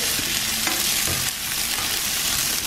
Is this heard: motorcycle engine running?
no